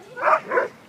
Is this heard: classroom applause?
no